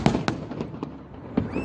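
New Year-style fireworks salute: about five sharp, loud bangs spaced unevenly over under two seconds, with a rising whistle trailing at the end and no talk.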